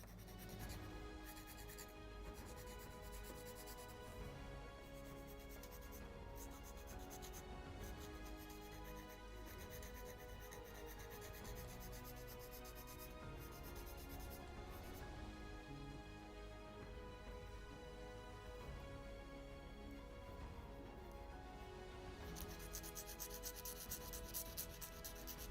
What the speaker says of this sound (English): So here it will be more delicate sanding.